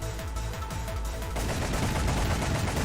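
Rapid automatic gunfire from the video game Elevated Justice, a steady stream of close, loud shots that thickens into a dense continuous roar partway through, with no talking.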